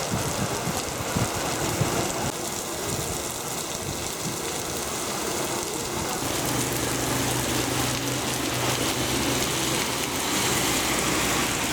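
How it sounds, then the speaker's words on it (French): Rain beginning to fall at the start of the wet season in Myanmar, a dense continuous patter that fills the whole span, with a faint engine hum underneath and a low tonal drone joining midway. "Et soudain, il se met à pleuvoir."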